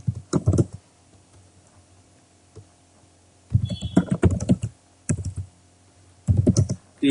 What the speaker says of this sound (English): I'll just type what are the steps I'm going to follow here